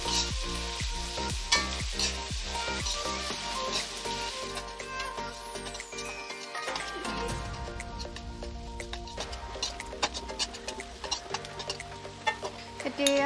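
Finely chopped onions fry for a mutton curry with a bright sizzle and stirring clatter, close up, while a rooster or hens cluck and other background sounds mix in.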